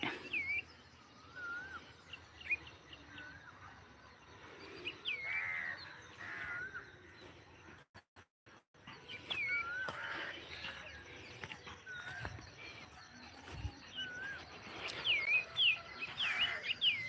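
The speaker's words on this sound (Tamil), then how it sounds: "கருவாட்டு வாலி குருவி" Treepies call with harsh, raspy caws and scattered chirps in a village at evening curfew time, intermittent calls over a faint outdoor background with other birds.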